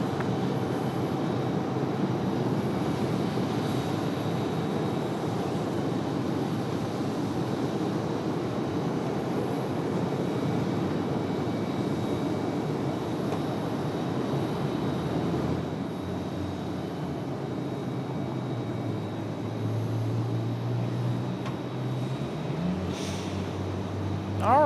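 A FedEx heavy jet departs Raleigh-Durham airport at night, its broad engine roar steady and continuous throughout, with a rising whine near the end as it climbs away.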